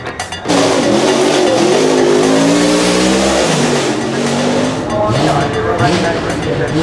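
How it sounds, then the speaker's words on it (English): Jaguar Mark II revving hard while burning out its tyres at Goodwood, a loud, close engine note climbing and falling in pitch with rising and falling revs, with a voice talking over it. "we've got the Jag Mark II, burning out the tyres"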